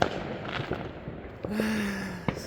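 Fireworks go off at a celebration: a few scattered sharp bangs at moderate distance, one followed by a whistling tone, then another distinct crack near the end.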